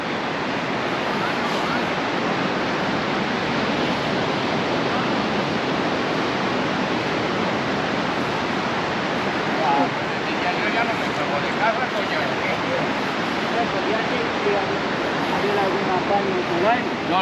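Steady broadband wash of surf on the wide sandy beach at Ca'n Pastilla, Mallorca, a continuous roar heard close and fairly loud, with no distinct voices.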